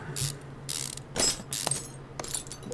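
Mechanical ratcheting and clicking bursts from a virtual brake caliper being removed in the Car Mechanic Simulator 2015 video game, several short tool-like rattles in quick succession over a low steady hum.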